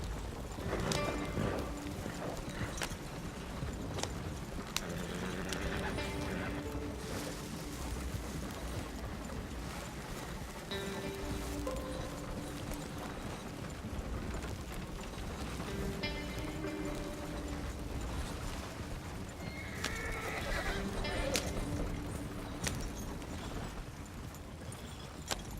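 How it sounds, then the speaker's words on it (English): Hooves clop steadily under a horse in a video game, with what may be a brief whinny near the end, set against a continuous busy game soundscape. "There's my horsey."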